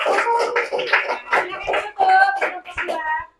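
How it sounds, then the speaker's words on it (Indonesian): A classroom claps for a student group after its presentation. Quick, uneven hand claps mix with children's voices and talk, then stop abruptly. "Tepuk tangan untuk kelompok 2."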